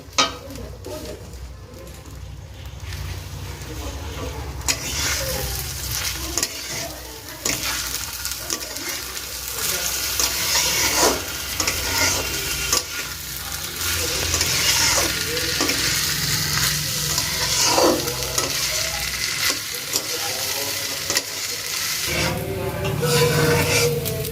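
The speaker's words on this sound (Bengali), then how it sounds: "চালটাকে এবার আমি ভালো করে ভেজে নেবো" Rice being stir-fried in a pan for meat bhuna khichuri, a steady sizzle with repeated scraping stirs of a spoon against the pan, close and continuous throughout.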